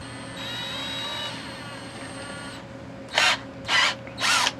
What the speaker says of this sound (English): I'm using my drill now.